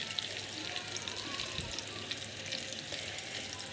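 An egg fries in a pan over low heat, giving a faint, steady sizzle that carries through without talk.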